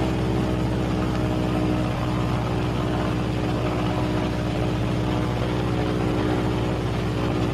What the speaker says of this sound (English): The next step is to decrease the power on my operating engine until it's virtually shut off